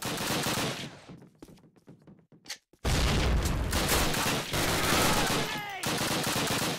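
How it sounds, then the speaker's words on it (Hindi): A video game battle: a burst of gunfire fades into a sparse lull, then a loud grenade blast kicks off sustained heavy gunfire and explosions, close and dense, with a brief pause before more firing. "ग्रेनेड फेंक दिया"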